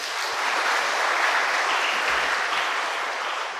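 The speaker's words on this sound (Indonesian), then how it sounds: "Tepuk tangan untuk panitia." Steady applause fills a church mass celebrating a parish anniversary, a dense continuous clapping from the congregation honoring the organizing committee, sustained and even throughout with no voices over it.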